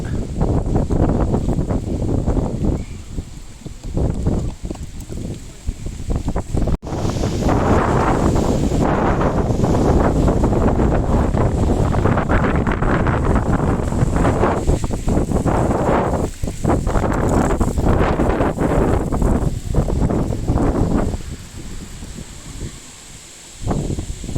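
Strong storm wind gusts buffet the microphone outdoors just after a solar panel installation, a loud roaring rush that surges and eases in waves, briefly dropping away twice before picking up again.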